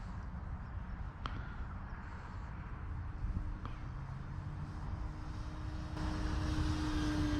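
Small RC model airplane (the 7) flying inverted, its engine giving a steady continuous drone throughout that swells louder near the end, outdoors with faint wind and background noise.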